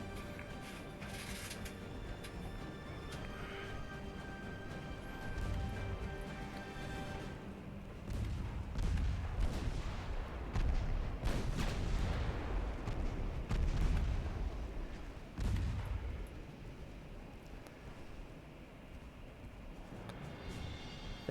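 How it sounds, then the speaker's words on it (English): Heavy naval guns, 10-inch, boom during a fleet battle in the game Ultimate Admiral Dreadnoughts, with deep rumbling blasts through the middle over a constant droning game soundscape. "these 10-inch guns are doing really good"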